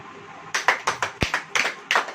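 A church congregation applauding during a sermon: a short run of separate, sharp hand claps in a loose, uneven rhythm, close and clear with no talk over them.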